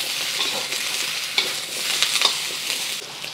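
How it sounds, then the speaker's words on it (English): Ground beef and zucchini stir-fry in a hot pan, a steady close sizzle with soft scraping of a utensil and a few brighter crackles; no speech. "I'm just gonna stir fry this for about 3 to 5 minutes until the vegetables are tender."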